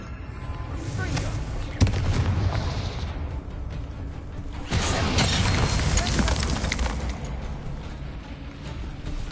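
A Bombarda spell in Hogwarts Legacy goes off as a sharp blast, followed by rumbling debris. A second heavy burst comes a few seconds later, with game sounds layered around both.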